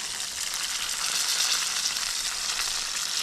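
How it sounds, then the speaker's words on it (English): Bullfrog pieces crackle in hot oil during a second deep fry, a steady, loud, close sizzle with no voices. "I'm gonna do a double fry on these guys, so I'm gonna toss them back in."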